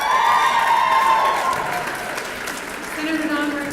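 A rally crowd at the Oklahoma Health Freedom Rally applauds, a loud wash of clapping that starts strong and slowly thins out, while a person talks over it throughout.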